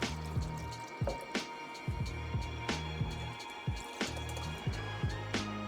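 Water is added to salty mentsuyu dipping sauce for cold soba, heard as soft repeated drips and squishy liquid sounds at a steady pace, close and fairly quiet, with no talking.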